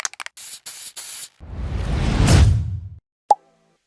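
Spray paint can: several short clicks and brief hissing bursts, then a longer sustained spray hiss that swells and stops, followed by a single sharp tap.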